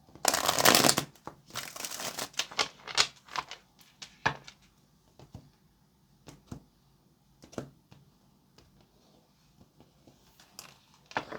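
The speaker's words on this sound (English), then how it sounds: "Last shuffle." Tarot cards being shuffled, a loud riffle at first and then softer, irregular slaps and flicks of cards handled near the microphone.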